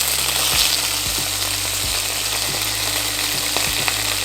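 Vegetables for an Italian-style fish dish fry in a pan with a steady close sizzle and occasional soft knocks of stirring throughout.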